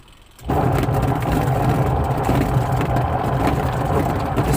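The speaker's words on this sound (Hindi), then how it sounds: "ये तोशिबा का वॉशिंग मशीन है। इसमें जो इसका गेयर बॉक्स है, साउंड आ रही है उसमें।" A faulty gearbox in a Toshiba washing machine starts up after a quiet moment, then runs as a loud, steady, rough mechanical drone with grinding low rumble, close by and continuous.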